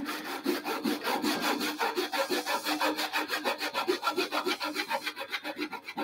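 A hand saw cuts wood for a hand-cut mortice, a close, rhythmic rasping of regular back-and-forth strokes, about three per second, with no talking.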